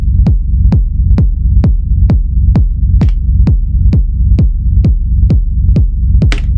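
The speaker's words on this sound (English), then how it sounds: "that's how you get your cool rumble" A deep, booming kick from an Elektron Analog Rytm drum machine thuds in a steady, even pulse, about two hits per second, each with a rumbling low tail, loud and alone.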